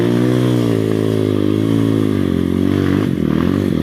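Motorcycle ridden in second gear, its engine droning steadily and loudly close by, with a slight rise and dip in pitch near the end and no one talking.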